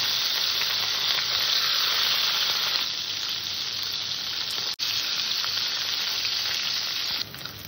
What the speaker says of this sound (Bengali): তেলটা গরম হয়ে গেছে, আমি মাছে লবণ হলুদ মাখিয়ে মাছটাকে সুন্দর করে ভেজে নেব।